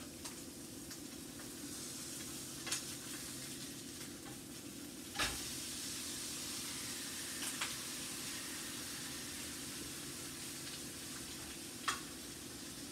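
A burger patty fries on a hot surface with a quiet, steady sizzle and hiss, broken by a few faint clicks and taps.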